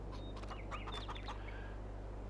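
Chickens cluck and chatter in short bursts on a farm in Farming Simulator 22, several close calls over a steady low hum, with no speech.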